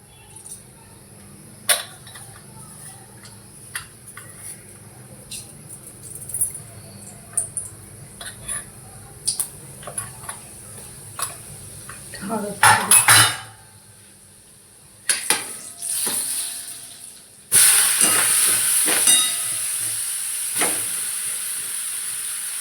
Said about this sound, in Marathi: तेल गरम झालंय तर आता जिरी मोहरी टाकू